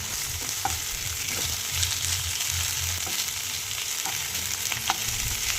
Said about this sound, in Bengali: আদা বাটাটা দিয়ে একটু নেড়ে চেড়ে নিয়ে এটাকে ভালো করে মাছের সাথে মাখিয়ে নিলাম